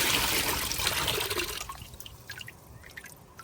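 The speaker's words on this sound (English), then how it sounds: "all that water came out of the pipe, right?" Water gushes out of a lifted perforated PVC French drain pipe, a loud, close splashing pour that tapers over a few seconds into scattered trickles and drips.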